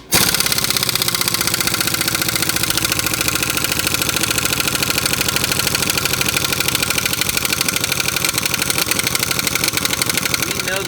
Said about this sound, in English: taking these lug nuts off, I have it on reverse, and we can go ahead and take them off